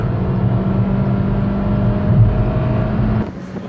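Lada Priora engine revving hard near the redline during a street race against a Kia Rio, a loud sustained in-cabin drone with a steady whine that drops off sharply near the end.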